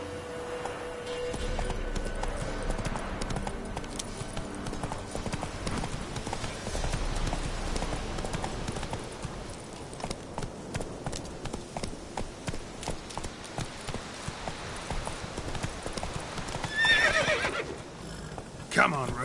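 A horse named Roach in a PS4 video game gallops with steady clip-clop hoofbeats and gives a loud neigh, while someone talks over the game sounds.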